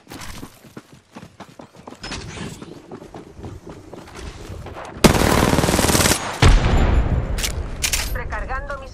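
Rapid automatic gunfire in the Apex Legends video game, with bursts of shots that swell into a loud, dense barrage partway through, mixed with in-game voices and impacts.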